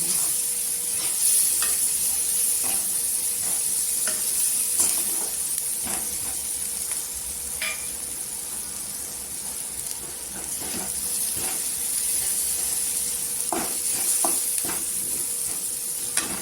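Gram flour (besan) roasts in hot oil in a pan for a capsicum sabzi, giving a steady, close sizzle that holds throughout, with occasional light clicks and scrapes from a spoon stirring.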